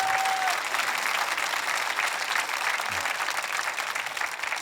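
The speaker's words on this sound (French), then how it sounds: "voulez-vous applaudir ce matin?" A church congregation applauding during a sermon, thick and even clapping that fills the room at a constant level from start to finish.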